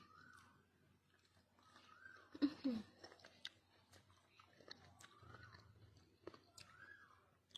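Someone eating and chewing food close up, with soft crunching bites and quiet mouth noises over several seconds, a couple of louder crunches near the middle, faint birdsong in the background.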